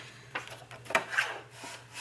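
Paper cut by hand for a journal page layout, heard as a few short, crisp rasping snips, close and quiet over a low steady hum.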